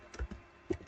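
A handful of separate key taps on a computer keyboard while a hostname command is entered on a Linux server, brief and close with short gaps between strokes.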